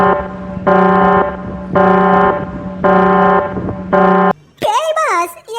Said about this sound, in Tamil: எதுக்கு அலாரம் அடிக்கிறிய?